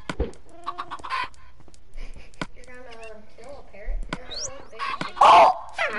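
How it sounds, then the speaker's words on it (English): Minecraft parrot sounds from the video game: several short chirping, squawking calls in quick bursts, fairly close, with brief voices mixed in. "Yeah, I hear the parrot sound from the..."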